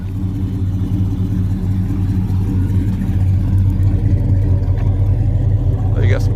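Supercharged LT4 V8 swapped into a 1970 Oldsmobile Cutlass, breathing through 2.5-inch Flowmaster exhaust, rumbles in a steady, loud, deep idle throughout, with a brief sharper sound near the end.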